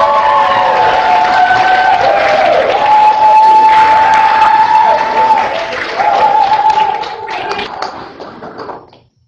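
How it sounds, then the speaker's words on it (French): Audience at a theatre festival for social integration claps and cheers, a dense, loud burst of applause sustained for several seconds with scattered whistles and voices, then fading out at the end. "il faut les entendre, il faut les applaudir, ces gens-là, c'est leur salaire."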